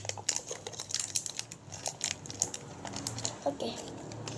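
Scissors snip and crunch through material while making slime, a run of short crisp cuts and crinkles close by, with faint voices in the background.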